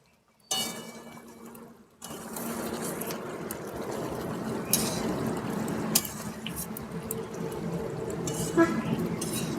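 Cabbage curry with garam masala being stirred in a pan, soft scraping and sizzling at a steady low level, with a brief quiet gap near the start.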